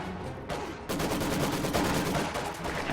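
Pioneer infantry fire on a mine in a real-time strategy battle, a rapid crackling of rifle and machine-gun shots bursting in and running continuously, loud and close with no talk.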